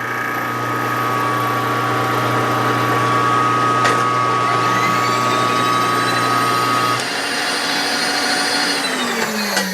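Lathe cutting a cylinder head for a five-cylinder radial engine, with a steady motor drone and a high sustained cutting whine that stops partway through, leaving the machine running on alone.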